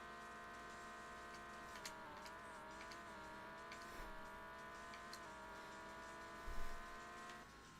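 Drag racing car engine in the game No Limit 2, a sustained high-pitched droning whine with small wavering shifts in pitch and a brief low thump near the end, no voices.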